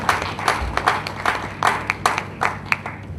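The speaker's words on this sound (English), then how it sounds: "Round of applause for UNILAG TV." Scattered audience clapping at a university research conference and fair in Lagos, Nigeria: a modest crowd produces a loose, uneven patter of distinct claps that swells and fades over about three seconds in a reverberant hall.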